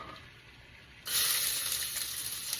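An onion drops into a pan of oil at medium heat and bursts into a loud, steady sizzle after a second of quiet, then keeps hissing evenly to the end.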